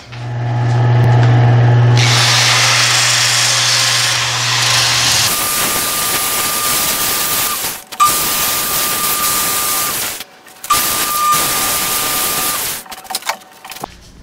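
A woodturning lathe hums steadily while a tool cuts and shapes a mesquite wood box, followed by loud broadband sanding or cutting passes broken by several brief pauses.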